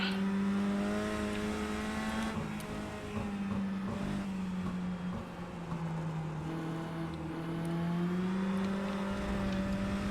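An iRacing race car lapping the Mid-Ohio short course, its engine a steady, close, buzzing drone that dips and climbs in pitch as it downshifts, with no talking.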